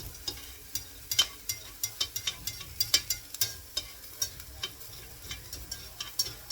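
Mushroom, potato, onion and ham fry in a pan while a utensil pushes them in from the edge, giving a low sizzle under irregular sharp scrapes and taps, close and quiet, with no talking.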